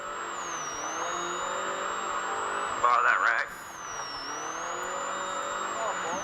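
A factory Polaris off-road race car engine drones at the Baja 1000 race, a steady high whine with a brief sharp rise in pitch midway, heard from on board under the continuous din.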